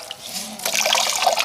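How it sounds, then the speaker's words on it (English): A damp polishing cloth wrung out by hand, a short liquid trickle and drip that swells after a brief quiet start, close and fairly loud. "We're just going to wring it out well."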